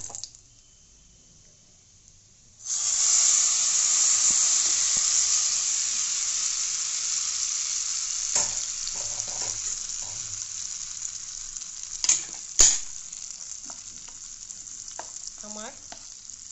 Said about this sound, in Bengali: এবার এটাকে আমি ওই চাটনির উপর ঢেলে দেব